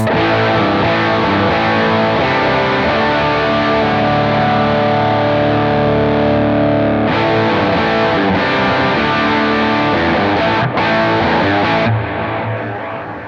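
A sustained electric guitar chord through a JET Pedals Lamb Overdrive with mids boosted rings out, thick and overdriven with a strong midrange, followed by a few more struck chords, loud and alone.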